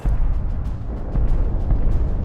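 Explosions in a stylised animated depiction of the Russian invasion of Ukraine, with blasts in eastern cities such as Kyiv and Kharkiv, as a dense continuous rumbling roar with repeated booms throughout, loud and without speech.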